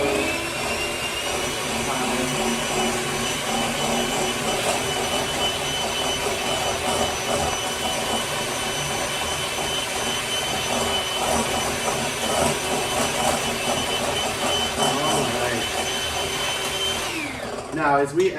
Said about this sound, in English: we're going to give it a couple more seconds of whisking